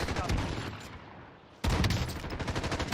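Bursts of rapid gunfire from a Call of Duty Warzone match, loud and repeated, dropping away briefly before another heavy volley, with faint voice underneath.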